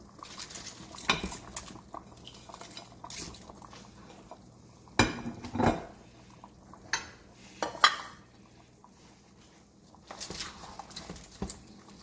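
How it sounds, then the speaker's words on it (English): A spoon scrapes and clinks through a full pot of Filipino beef nilaga with okra and bok choy ribs, a few scattered stirring knocks and sloshes at moderate level over a quiet background. "Kind of stir it around a little"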